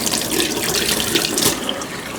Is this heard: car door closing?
no